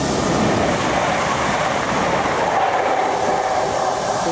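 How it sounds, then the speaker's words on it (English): A train pulls into a station on the Cholsey and Moulsford heritage railway, giving a steady, loud broadband rumble and rolling clatter that holds throughout with no voices. "Just pulled in. Apparently part of the Cholsey and Moulsford railway."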